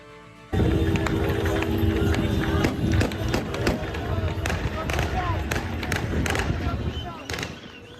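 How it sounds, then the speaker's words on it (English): Loud, continuous crackle of celebratory gunfire bursts outdoors in Syria, rapid pops overlapping with a cheering crowd and shouting in a busy street. "The gunfire there in celebration as rebel supporters cheered in the streets"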